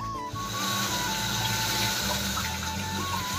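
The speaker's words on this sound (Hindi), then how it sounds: "तो अब भरते हैं पानी" Water running steadily from a tap into a container at a cattle shed in the hills of Uttarakhand, a continuous close, loud rushing stream with no talking.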